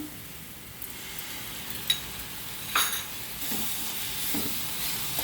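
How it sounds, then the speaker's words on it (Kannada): Carrot sandwich filling frying in a pan as garlic ginger paste goes in, a soft steady sizzle with a few sharp scrapes and stirring clinks from a spoon, quiet and close, no talking. "ಈಗ ಇದೆಲ್ಲ ಚೆನ್ನಾಗಿ ಫ್ರೈ ಆಗಿದೆ ಈಗ ಬೆಳ್ಳುಳ್ಳಿ ಶುಂಠಿ ಪೇಸ್ಟ್ ಹಾಕಬೇಕು"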